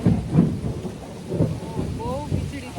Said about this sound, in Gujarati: બહુ વીજળી થાય એકદમ બીક લાગે એવું વાતાવરણ છે